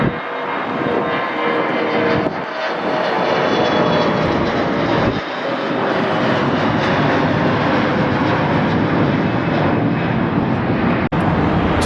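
A Bombardier CRJ 900 regional jet roars steadily at Atlanta airport, its engine noise a loud, continuous broadband rush that holds for the whole stretch with no talk.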